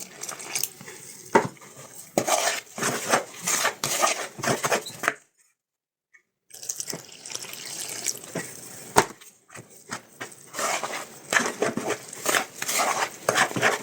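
A spoon clinks and scrapes around a bowl, mixing dry yeast into a dough mixture for jam-filled yeast rose buns, with repeated close metallic taps, a brief silent gap midway, then more stirring.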